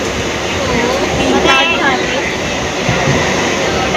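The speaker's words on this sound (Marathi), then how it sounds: "तर आता आम्ही ट्रेनमध्ये बसलोय." A passenger train rumbles steadily from inside the carriage, a loud continuous roar with faint voices mixed in.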